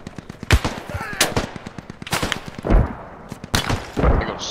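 Video game gunfire, including a sniper shot, cracks out in a series of loud, sharp bursts with rapid rattling shots between them, close and punchy, with no talking.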